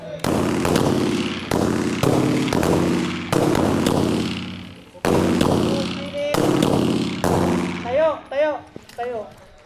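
Sharp, loud pistol shots ring out one after another in an irregular series at a firing range, each with a brief echoing tail, followed by a few quieter bangs.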